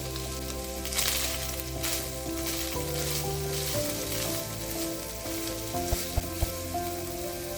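Onion and ground turkey frying together in a pan for stuffed potatoes, a steady close sizzle with light stirring and a few sharp utensil taps near the end, with a musical tone underneath and no speech.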